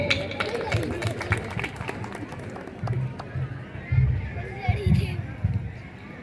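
Audience at a school comedy poetry recital applauding the next poet called up: brisk clapping from a fairly close group with a chatter of voices and some low thumps, gradually thinning out.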